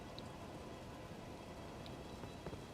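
Steady rain in the Elden Ring game, a soft continuous hiss of falling drops with occasional faint patters, even and distant throughout with no other sounds standing out.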